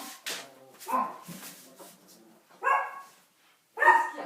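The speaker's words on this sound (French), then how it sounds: "parce que j'ai les chiens qui aboient" Dogs bark in several sharp bursts, nearby and fairly loud, with short pauses between the barks.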